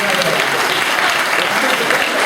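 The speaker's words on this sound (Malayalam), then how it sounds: "കയ്യടി കൊടുത്തേ" Loud, dense applause from a crowd, continuous rapid clapping filling the whole moment close up, with faint voices mixed in beneath it.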